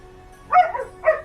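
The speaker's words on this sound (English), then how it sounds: "As Jericho barks, anything else?" A dog gives two short, close barks, yips with a slight whimpering edge, spaced about half a second apart over a faint steady hum.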